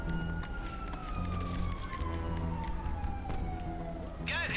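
A police siren in GTA 5 Online wails in a long, slowly falling tone over steady engine and game background noise, with a brief chirp near the end.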